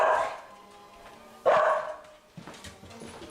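A dog barks at someone outside, with a couple of loud, close bursts and a shorter one after, while a person talks to it between the barks.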